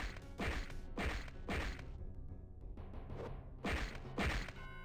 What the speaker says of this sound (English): this explosion sound being completely blown out